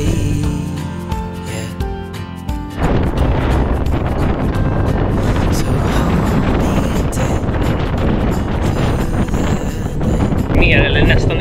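Strong, gusty wind buffets the microphone on a mountain in Lofoten, a loud, continuous broadband roar that surges from about three seconds onward and persists throughout, with no speech heard.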